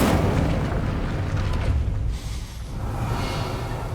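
A loud, sustained roaring blast from the Incendio fire spell cast in Hogwarts Legacy, dense and booming throughout, easing slightly midway before surging again, with no voices.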